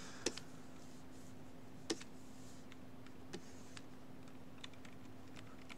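Down arrow keys on a computer keyboard are pressed in a few sparse, faint clicks spaced irregularly over a low steady hum, with no talking.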